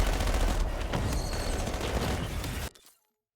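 Sentry turrets firing in Call of Duty Black Ops 6 zombies mode, a dense, loud, continuous barrage of rapid gunfire with crashing impacts that stops suddenly and leaves a brief fading tail.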